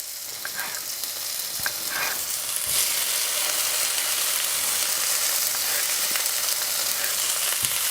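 Cherry tomatoes sizzle in a hot frying pan, a steady close crackling hiss with occasional sharper pops and some stirring.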